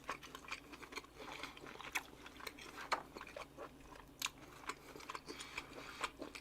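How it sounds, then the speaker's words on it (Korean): Close, steady chewing of tomahawk steak with wet, slightly crunchy bites repeating in an irregular rhythm, fairly quiet, no talking. "고기 씹는 소리가 진짜 죽이죠."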